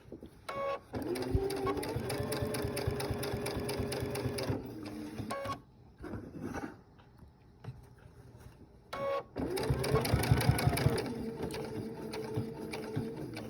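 A sewing machine stitches quilt binding using a blind hem foot, running in two long steady bursts of rapid rhythmic needle clatter separated by a quieter pause with faint handling sounds.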